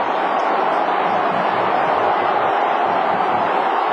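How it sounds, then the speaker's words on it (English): A large Australian football crowd at Subiaco roars steadily and loudly through a tight Fremantle versus Adelaide finish, with commentary barely audible under the dense noise. "Listen to this crowd at Subiaco with just over a minute to play"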